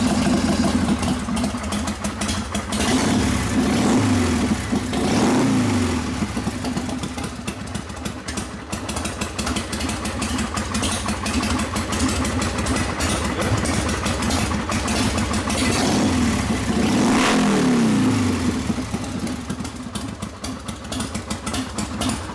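A motorcycle engine cranked by its starter button with the key disconnected, catching and running at a steady idle close by, with rising and falling revs around two brief bursts.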